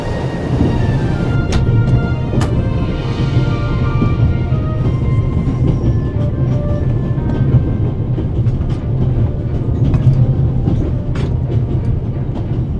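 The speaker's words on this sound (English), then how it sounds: "This train began in Paris and ends in Istanbul as usual." The Orient Express rumbles steadily along the rails in The Raven video game, a loud continuous low roar with faint clicks of the carriage, no voices.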